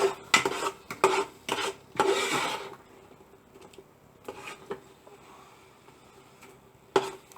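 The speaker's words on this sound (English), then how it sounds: "So fry it, keep frying it for another 5 minutes" Mutton vindaloo fried and stirred in a pan, with a spoon scraping and clattering against the metal in quick bursts, a busy stretch early, then sparser scrapes with quiet gaps between.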